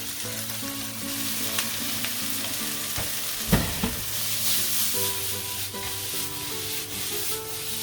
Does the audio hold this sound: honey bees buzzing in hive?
no